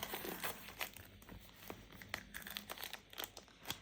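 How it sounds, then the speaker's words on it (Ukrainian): Thin plastic film is peeled and crinkled off a premium Lo Scarabeo tarot card box, a close, quiet run of dry crackles and small tearing rustles without pause. "Давайте зараз зніму плівочку і все вам покажу."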